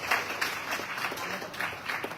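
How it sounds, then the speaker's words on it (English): An audience claps and applauds steadily throughout, a dense, sustained round of applause from a conference crowd at the formal opening of the Caribbean Public Services Association annual conference. "Please give her a round of applause."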